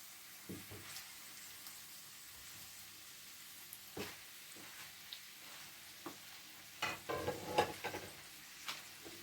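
Chicken pieces fry in a Moroccan tagine with browned onions, giving a faint, steady sizzle broken by a few soft clicks and scrapes of stirring, louder near the end.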